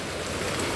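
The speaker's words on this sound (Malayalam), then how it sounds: "നല്ല മഴ എന്ന് പറഞ്ഞാൽ നല്ല മഴ, ഒന്നൊന്നര മഴ" Heavy rain pours down in Thrissur as a dense, loud and steady hiss of drops striking surfaces, with no talking.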